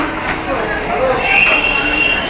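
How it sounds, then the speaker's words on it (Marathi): Busy Thane railway station ambience with a steady rumble of train and crowd noise, a brief high squeal rising midway, voices murmuring underneath. "रेल्वे स्टेशन ठाणा रेल्वे स्टेशन पोचलो आपण"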